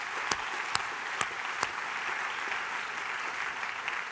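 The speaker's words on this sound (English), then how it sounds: "So why don't we give them a great applause for that," A conference audience gives a session a fairly distant, even round of applause, a soft wash of clapping with a few sharper individual claps standing out near the start.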